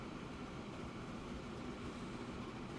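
A train in the Transport Fever 2 video game runs at full speed, giving a steady, even rumble and rolling noise that stays constant throughout, with no talk over it.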